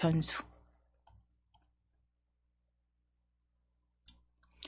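A handful of sparse, soft computer mouse clicks with long quiet gaps between them, and a voice speaking briefly at the very start.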